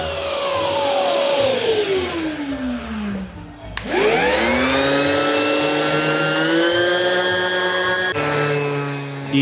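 A Ryobi ROS300A random orbital sander hooked to a vacuum starts up, its whine sweeping from low to high pitch, dropping briefly, then spinning up again into a loud, steady high-pitched drone with a rising tonal whir.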